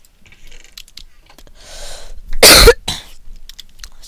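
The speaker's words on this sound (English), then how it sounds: "I might be coughing a little bit." A single sharp cough bursts out close to the microphone during a Minecraft Bed Wars game, preceded by soft clicks and a short breathy rustle, then quiet keyboard-like taps after.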